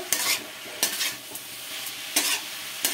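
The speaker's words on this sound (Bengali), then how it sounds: "এবার এটাকে টানাতে হবে, অর্থাৎ ভাজা ভাজা করতে হবে।" Grated radish with coriander leaves stir-fries in a pan: a soft steady sizzle broken by repeated sharp scraping strokes of a spatula, roughly every second or so, close by.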